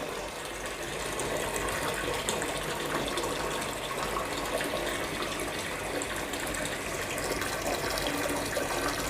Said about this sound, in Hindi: अब पहले थोड़ा पानी चलाते हैं,